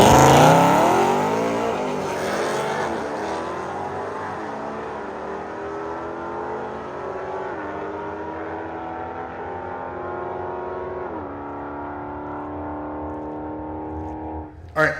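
A Roush-supercharged 2024 Mustang GT roars loudly down a drag strip, revving up and shifting through gears as it accelerates hard, the pitch repeatedly climbing and dropping, ending with a sharp burst.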